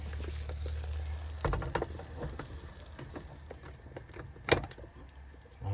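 Meat and potato pie frying gently in a Ridgemonkey pan, a soft steady sizzle with scattered clicks and a clunk of the pan being handled, fairly quiet and close.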